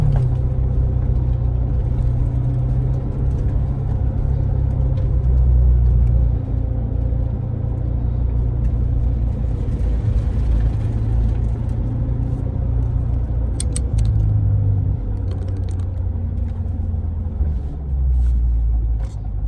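A 2017 Corvette Grand Sport V8 engine roars in a deep, loud, steady rumble that continues for the whole stretch, with slight swells in pitch, no voices.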